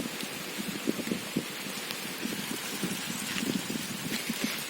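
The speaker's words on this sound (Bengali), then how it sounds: "বৃষ্টি পড়তেছে" Rain falls in a steady, dense patter, with drops hitting surfaces close by. It continues evenly throughout, with no voices.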